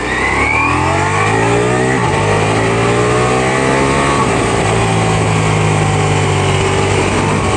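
A 2023 Ducati Diavel V4 motorcycle revs loud and close, its engine note rising and falling through several gear changes while riding at speed on a freeway, with steady wind rush underneath.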